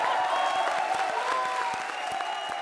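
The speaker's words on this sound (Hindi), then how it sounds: "जोरदार तालियां" A television comedy show studio audience gives dense, sustained applause that runs loud and steady throughout, with a faint tonal hum underneath.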